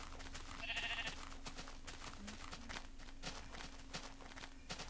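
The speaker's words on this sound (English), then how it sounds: "Sheep." Minecraft sheep bleat in a video game, a faint short bleat over a steady low game hum and footstep-like taps, with no voices.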